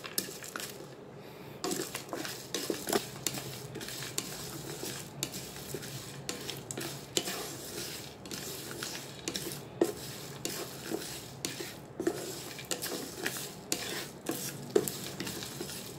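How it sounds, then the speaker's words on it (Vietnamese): Pho spices dry-roasting in a pan, stirred with a utensil that gives repeated irregular scrapes and clinks against the pan over a faint crackle, close and fairly quiet. "Mình phải rang lên cho thơm nha các bạn"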